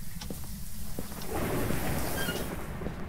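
Heavy rainstorm in the ghost-hunting game Phasmophobia: a dense, steady roar of rain with a deep rumble beneath it, filling the whole scene without a break.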